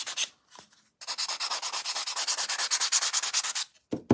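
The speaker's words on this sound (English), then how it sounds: "I just want to go around these edges." Rapid back-and-forth sanding strokes rasp against wood up close, a steady rhythmic scratching after a short pause, ending with a couple of knocks.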